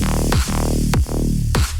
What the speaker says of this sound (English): it's just this nice analog bass is what I would say